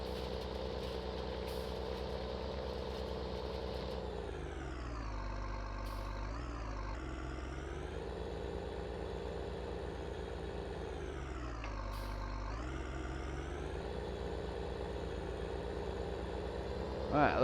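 Tractor engine in Farming Simulator 19, a continuous low diesel drone with steady harmonics that rise and fall in pitch as the throttle changes, held at an even loudness for the whole stretch.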